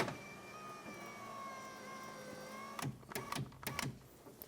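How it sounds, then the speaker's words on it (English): Power window motor in a 2013-2017 Honda Accord with its door panel removed, a steady whirring hum that rises slightly in pitch, then stops, followed by a few clunks and taps from the door. "Roll your window up"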